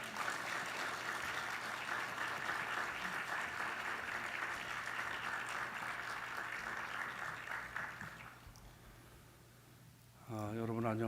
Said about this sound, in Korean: 우리 뜨거운 박수로 모시겠습니다.